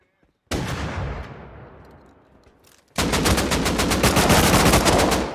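Gunfire in the console video game Rust, with one loud shot and its fading echo, then a sustained rapid burst of automatic fire, close and loud.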